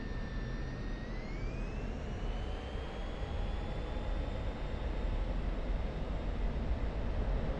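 An F-16 Viper fighter jet roars steadily through an airshow practice pass, a loud continuous broadband engine rush with a slowly rising whine that holds for several seconds without any voices.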